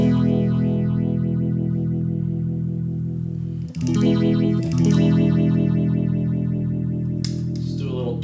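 An electric guitar played through a stereo effects pedal heard in mono: a sustained, distorted, chorus-swirled chord ringing steadily, with a couple of strummed re-attacks and a slide near the end, close and loud with no talking.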